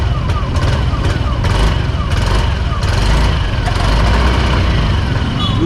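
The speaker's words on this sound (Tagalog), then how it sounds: "Rev natin na konti." Yamaha NMAX V2 scooter on its center stand with the engine running: a loud, steady close engine drone with mild rises in pitch as the throttle is blipped, with someone talking over it.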